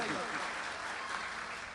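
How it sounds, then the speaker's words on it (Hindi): Audience applause at a mushaira poetry gathering in Thane, a brief dense wash of clapping from a crowd, steady and fairly loud throughout. "तालियां आनी चाहिए आपकी।"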